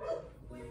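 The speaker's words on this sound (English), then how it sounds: "My dog is just barking." Pet dog barking indoors in a home at night, a single short muffled bark heard close by, brief and somewhat soft.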